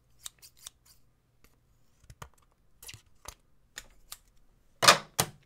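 Scissors snip through a Cathay airline card in a series of close, crisp cuts spread over several seconds, ending in two louder, harsher snips, against an otherwise quiet room.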